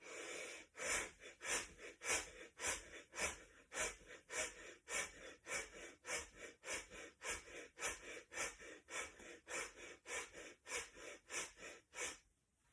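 Deep, forceful rhythmic breathing during a breathing exercise, around two dozen quick strong breaths in a steady, fast cycle, close and loud with no talking, ending abruptly.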